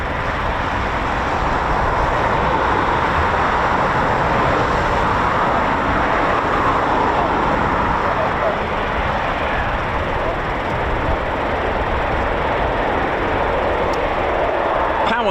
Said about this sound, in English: literally a kit plane, an RV7, powered by a Lycoming